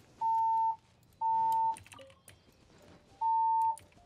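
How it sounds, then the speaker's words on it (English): A building fire alarm sounding in three long, identical electronic beeps separated by short gaps, loud and steady, with faint background noise between tones. "I think my fire alarm's going off."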